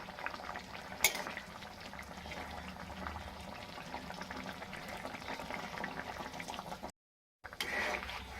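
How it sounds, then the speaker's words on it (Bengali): A mustard-paste fish curry with mango pieces simmering in a pot, a soft continuous bubbling and hiss, close but quiet, with one brief clink and a momentary dropout near the end. "বেশ ভালো করে আরেকবার আমি ফুটিয়ে নিচ্ছি"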